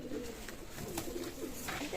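Soft, low cooing from yellow-eyed desi pigeons murmurs continuously at close range in a pigeon loft in Khulna, Bangladesh, with a steady background hum and faint rustling.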